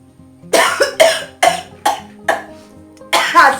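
A woman coughs repeatedly from the smoke of dry red chillies burning, about six harsh, close coughs in a steady rhythm with a short gap before the last burst.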